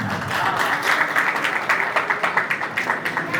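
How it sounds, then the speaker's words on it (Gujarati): Loud, steady applause from a crowd at a community gathering, dense continuous clapping with a faint voice underneath. "જોરદાર તાળીઓ છે."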